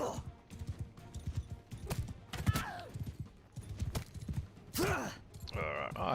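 A slow sumpter horse in the medieval battle game Bannerlord, its hooves clip-clopping in a quick, uneven rhythm amid whooshes and other game effects, with some talk.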